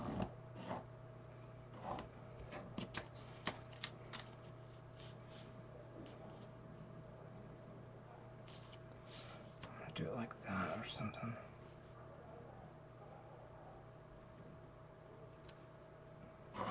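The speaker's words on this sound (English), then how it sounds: "so I'm cutting out, just going around with the stencils." Scissors cut around paper stencil shapes in a quiet room: faint, irregular snipping clicks come close together in bursts over a low steady hum, with soft, barely audible speech.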